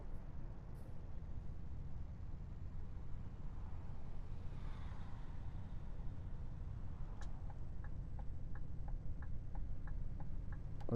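A speeding warning in the Euro Truck Simulator game sounds as a rapid series of short, evenly spaced electronic beeps over the low, steady rumble of a truck engine; no one talks.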